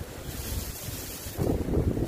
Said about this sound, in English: and there's water running here.